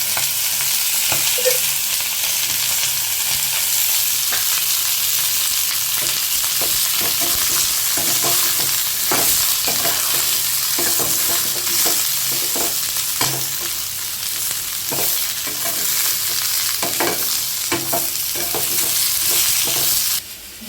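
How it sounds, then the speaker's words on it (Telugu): Ingredients for a fish curry fry in a pan with a constant hissing sizzle, broken by repeated scraping and clicking strokes of a spoon stirring throughout, close and fairly loud with no talking. "ఇది నేను చేసేది ఇట్లా కొద్దిగా నేను వేసి ఫ్రై చేస్తాను"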